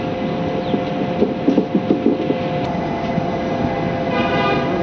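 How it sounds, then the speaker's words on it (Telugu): The Palnadu SF Express runs steadily near Begumpet railway station, with a continuous rolling rumble, a short burst of rhythmic wheel knocks near the start, and a steady tonal whine throughout. "మన ట్రైన్ బేగంపేట రైల్వే స్టేషన్ చేరుకుంది"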